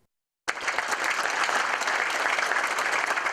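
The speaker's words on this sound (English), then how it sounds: "The applause is well-deserved" After a brief silence, a crowd bursts into steady applause at the opening of the Ulysses S. Grant Presidential Library, dense clapping sustained evenly to the end.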